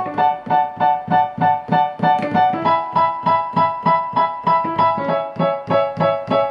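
A keyboard plays the intro as a steady, bouncy rhythm of repeated staccato chords with a low bass note under each hit, continuing evenly for several seconds with no voice.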